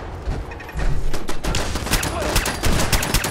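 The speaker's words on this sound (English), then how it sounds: "Please stop shooting my friends." Bursts of gunfire ring out in a Fallout 4 survival-mode firefight, dense rapid shots crowding together, loud and close, with a voice briefly audible.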